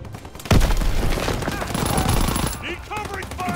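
Dense automatic and rifle gunfire in a Call of Duty WWII multiplayer match, a loud sustained fusillade that surges after a heavy blast, with clipped voice callouts breaking through near the end.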